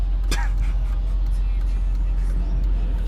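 Traffic rumble with a car whooshing past nearby, steady road noise continuing after, under a low engine drone.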